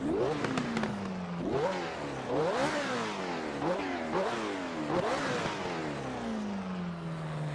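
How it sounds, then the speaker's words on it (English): An Alfa Romeo 33 Stradale V8 in the racing game Assetto Corsa revs loud and close, climbing and dropping through several sharp throttle blips before settling into a falling tone, with no talk over it. "And you can hear that wonderful V8 engine."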